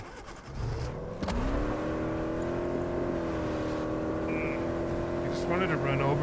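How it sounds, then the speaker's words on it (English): A car engine in a video game drones steadily at a constant pitch, holding a loud, sustained hum for several seconds with a slight rise near the end as the vehicle drives. "There's another car right here."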